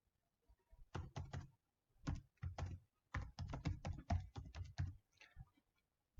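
Someone types an email address on a computer keyboard to log in. Close, crisp key clicks come in quick irregular bursts with short pauses, quiet and with no one talking.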